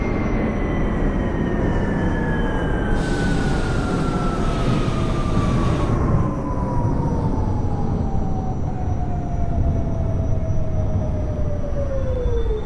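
R46 subway train running in the OpenBVE train simulator, a loud continuous rumble with a descending motor whine that glides steadily lower as the train decelerates, and a brief hissing burst in the middle.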